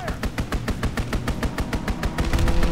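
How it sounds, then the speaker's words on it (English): Strafing-run gunfire in the video game Call of Duty: WWII, a fast, evenly spaced train of loud, close shots rattling for the whole clip without a break. "For a strafing run."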